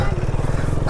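Ninja superbike engine running close and loud with rapid, even pulsing throughout, ending in a sudden burst of hiss.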